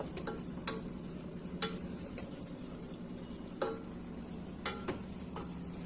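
Ground masala frying in a pan for tomato bath, a soft steady sizzle with scattered sharp clicks of a spoon scraping and stirring against the pan, close and quiet.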